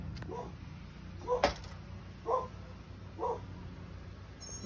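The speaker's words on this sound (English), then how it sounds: "Be able to hear the dog next door saying hello" A neighbor's dog barks a few times at a distance, three short separate barks spaced about a second apart over a quiet background hum.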